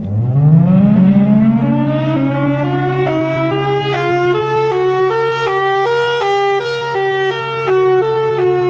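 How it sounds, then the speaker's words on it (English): A horror creature lets out a loud, sustained siren wail that starts low and climbs into a steady, piercing tone layered with many harmonics, alone and unbroken throughout. "his sirens to emit a sound so loud and powerful that can cause brain damage"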